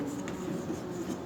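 Marker or chalk writing on a board during a chemistry lesson, a soft continuous scratchy rubbing, brief and close, with no voice over it.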